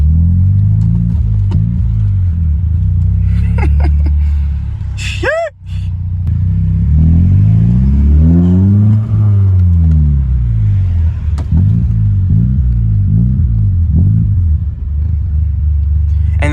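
A car fitted with a custom exhaust drives and revs with a loud, deep rumbling note that climbs and falls through repeated throttle bursts and gear changes, heard from inside, with a brief exclamation partway through.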